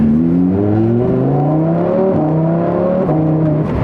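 Lamborghini Sterrato engine revving hard under acceleration, rising in pitch through rapid-fire gearshifts with brief dips between gears; loud and close, heard from inside the car with no talking.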